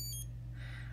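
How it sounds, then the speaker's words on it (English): A Suunto Core wristwatch's stopwatch gives brief, high electronic beeps right at the start as it is started and stopped, followed by a quiet, steady low hum. "You can get a stopwatch, which I'm starting and stopping there."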